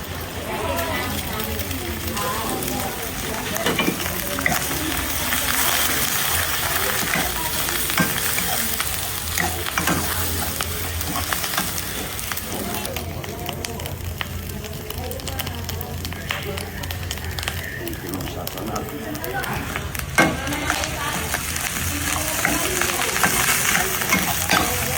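Rice fries in olive oil with garlic and egg, a dense continuous sizzle with stirring scrapes throughout, while someone talks casually over the cooking.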